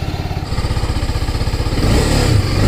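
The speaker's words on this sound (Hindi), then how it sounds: "बाइक का चल रहा है इधर वार्म अप" A motorcycle engine warming up, its rapid steady thumping idle pulsing close by before it revs up louder toward the end.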